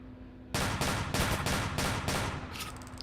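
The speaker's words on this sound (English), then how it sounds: "towards here as gunshots ring out inside." Gunshots ring out indoors in rapid succession, a dense burst of loud cracks following a brief quiet lead-in, with no talking over them.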